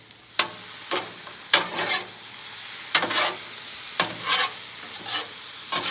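Veggies and chicken are mixed with a spatula on a sizzling Blackstone griddle, with scraping strokes and clacks every second or so over a constant frying hiss, close and without talk.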